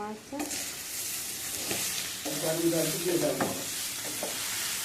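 Potato curry sizzling and frying in a pan, with bursts of stirring and scraping, close and steady throughout.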